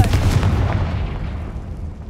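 The Confringo blasting spell in Hogwarts Legacy bursting into a heavy explosion, a loud booming blast with a deep rumble that decays over about two seconds.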